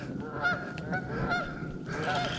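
Geese honking repeatedly at a moderate distance on a fishing outing, several calls in a loose rhythm over faint outdoor background noise.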